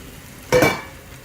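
A brief burst of stirring in a pan of vol-au-vent filling, one short scrape and sizzle of about a quarter second, close and fairly loud, with quiet kitchen background before and after.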